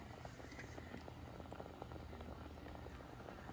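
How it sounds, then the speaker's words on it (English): Sugary peach liquid boils quietly in a pot, a soft continuous bubbling with faint popping, low and steady throughout. "you'll see that that liquid is boiling."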